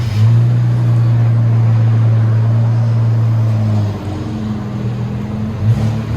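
A 2017 Infiniti Q50 with a 3.0L twin-turbo V6 and Borla Pro-XS exhaust, mufflers and resonators removed, holds a deep, loud rev up close, drops back around the middle, then blips again.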